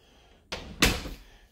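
A closet door with bifold panels in a house bedroom under a stairway, in need of some attention, moves with a soft scrape followed by a louder knock, close by and alone.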